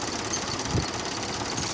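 A repaired tractor engine runs steadily up close in a brief burst of low, rumbling, even throb.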